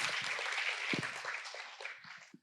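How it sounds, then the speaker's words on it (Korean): Quiet audience applause in a lecture hall at a cultural-center academy event, a soft patter of hands that gradually thins out and fades to silence at the end. "큰 박수 부탁드립니다"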